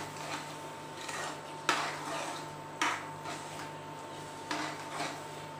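A spoon scrapes and knocks against a pan while carrot halwa with sugar and mawa is stirred, giving a few close, sharp clinks over a soft, steady background hum.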